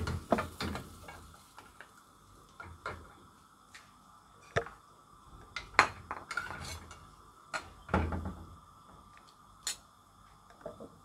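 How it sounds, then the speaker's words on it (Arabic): A metal spoon stirring bread soaked with vinegar and garlic in a pot for Eid fatta. Close, irregular clinks and scrapes against the pot come with soft pauses between them, and no one speaks. "ممكن ان احنا ناخد كده معلقه وننزلها على العيش بتاعنا ونقلبه فيها"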